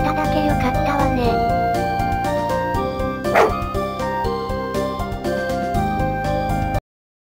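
A dog barks and yips in a Pokémon video game, short barks and a whimpering cry over a steady backdrop of game music, with one sharp louder burst midway.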